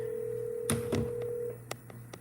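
A phone call placed through an automated dialer: a steady electronic ringing tone holds for about a second and a half, broken by a couple of sharp clicks, then a few more brief clicks follow.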